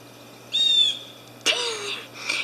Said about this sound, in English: There's a bird up in that tree that keeps talking to us, and it's so annoying.